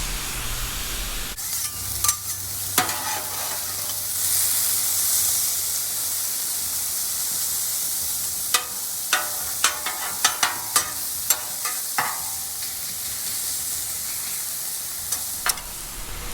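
Steak sizzles on a 36-inch Blackstone griddle with a loud, continuous frying hiss, punctuated by sharp scraping clicks of a metal spatula stirring and flipping the meat up close.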